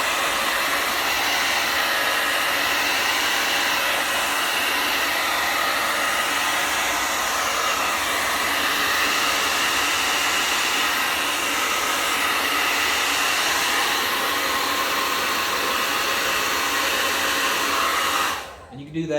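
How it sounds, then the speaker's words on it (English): A hair dryer set on cool blows steadily over the crevices of a small portable USB fan, a loud continuous whoosh that holds almost unchanged before cutting off near the end. "But get you like a hair dryer and go all the way around the crevices and in the fan, inside and out"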